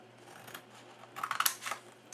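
Scissors cut straight across a sheet of card being shaped into a box, a short crisp snipping burst that grows louder toward the end, close by with no talking.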